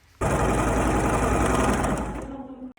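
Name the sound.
sewing machine stitching white fabric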